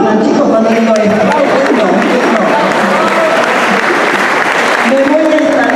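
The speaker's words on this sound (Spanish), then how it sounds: "Aplaudan, chicos, cuando vengo a esto" Loud, sustained applause from a crowd at a hotel inauguration in La Plata fills the whole stretch, with voices talking over the clapping.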